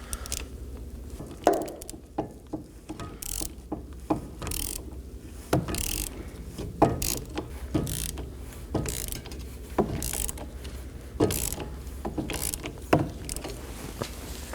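An electronic parking brake tool works on the rear brake caliper piston of a 2018-2024 Chevrolet Equinox, giving a string of close mechanical clicks and ratcheting bursts in an uneven rhythm with no talk.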